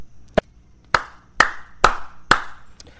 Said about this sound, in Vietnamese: có tiếng vỗ tay vang lên